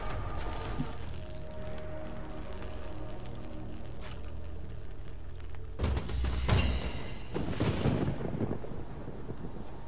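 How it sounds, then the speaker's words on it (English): Thunderstorm in Generation Zero, with a constant wash of rain and wind under a deep, rolling rumble of thunder that swells loudly about two-thirds of the way through. "Now we have a fucking thunderstorm on us."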